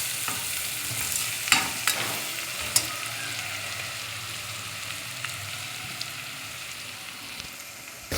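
Onions frying in a pressure cooker for vegetable pulao, a steady soft sizzle with a few sharp spatula taps and scrapes, close and fairly quiet throughout.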